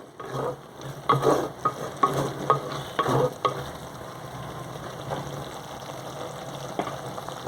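Raw mango curry with green chillies and chilli powder being stirred in a pan, scraping and sizzling bursts for the first few seconds, then a quieter steady frying hiss with occasional faint clinks.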